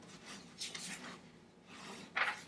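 A voice softly imitates rustling with breathy scratching and shushing noises in short bursts, quiet and close.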